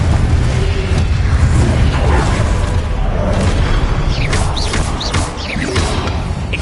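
Confringo fire spell blasts in Hogwarts Legacy, a dense roaring wash of booms and crackling impacts sustained loud throughout amid combat, with a few whooshing, sweeping tones near the end.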